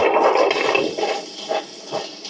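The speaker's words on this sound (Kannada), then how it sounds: "ನೀವು ನೆನೆಸಿರೋ ಅಕ್ಕಿನ ತಗೊಳ್ಳಿ ಲೈಟಾಗಿ ನೀರು ಹಾಕೊಂಡು ಆನ್ ಮಾಡಿ" A 2-litre wet grinder switched on with soaked rice and a little water churns close by as a steady, watery whirring and sloshing with a faint rattle, with no talking.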